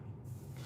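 A single short hissing spray of perfume from a fragrance bottle, close and quiet, over a faint low background hum.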